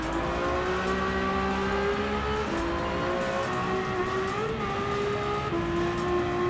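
A Ferrari 296 GTP race car in Gran Turismo 7 drones along with a steady, loud engine tone that shifts pitch through gear changes, plus faint tyre noise, heard alone without talk.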